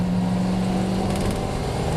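TVR race cars racing at Silverstone, with a loud, steady engine roar and whir, a brief rise in intensity midway as a car passes close.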